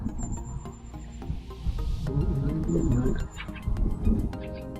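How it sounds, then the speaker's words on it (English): Thin, high calls from a flock of long-tailed tits drift over a rumbling, noisy outdoor background by a river in winter, some calls brief and others drawn out. "when you have a tit flock go through like this, like the long-tailed tits"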